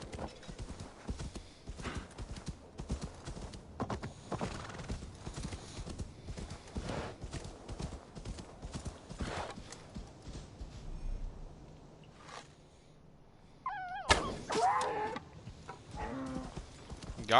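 Horse hooves clip-clop steadily through most of the stretch in Assassin's Creed Valhalla, moderately close, with a brief neigh near the end and faint background game sounds.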